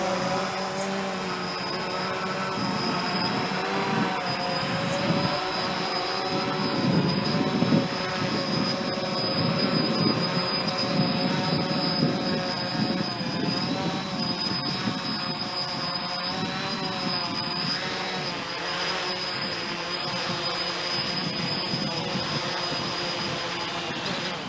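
A WLToys V303 Seeker quadcopter with a low battery comes in to land, its steady whirring rotor buzz holding loud and close throughout without speech.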